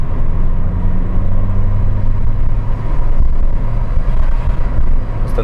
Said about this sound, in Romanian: Vedeți, treapta întâi, mașina urcă foarte bine.